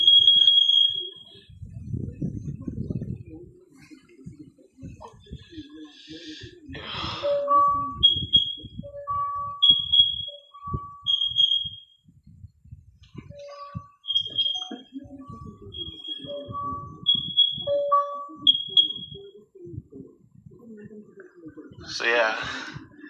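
A high electronic carbon monoxide alarm beeps intermittently during a test, first a steady tone, then chirping pulses, while a person talks and moves nearby.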